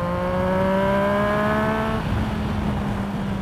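Motorcycle engine revving up as the rider opens the throttle on a winding road, a steady climbing harmonic whine that rises, then drops to a rougher idle-like drone after a gear change, continuous and close.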